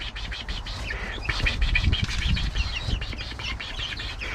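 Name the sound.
chickens and rooster clucking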